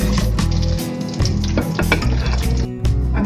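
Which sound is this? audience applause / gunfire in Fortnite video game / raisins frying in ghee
raisins frying in ghee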